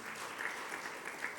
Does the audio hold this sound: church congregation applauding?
yes